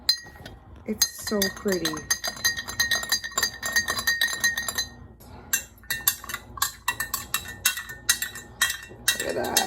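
A spoon stirs lilac syrup inside a glass, giving repeated bright clinks in irregular bursts close by, with someone speaking briefly over the stirring.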